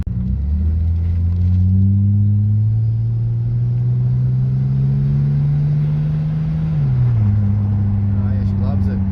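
A turbocharged Barra-engined Ford Falcon accelerates hard on a street, its loud, close engine drone climbing steadily in pitch before dropping with a gear change and pulling again.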